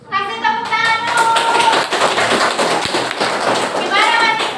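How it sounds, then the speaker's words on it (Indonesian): An audience in a coding training session claps together, a loud, dense burst of rapid hand claps sustained throughout, with a voice speaking briefly at the start and end. "Kasih tepuk tangan dulu."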